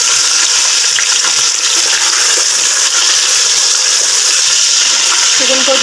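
Chicken frying in a pan of well-fried garam masala spices for a korma, giving a loud, dense, continuous sizzle close up, with faint stirring scrapes underneath.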